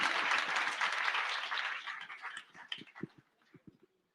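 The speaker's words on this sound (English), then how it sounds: "Clap काफी हुई?" Audience applause at an interview event with Javed Akhtar and Zoya Akhtar, a dense, steady wash of clapping that thins out into a few scattered, separate claps as it dies away.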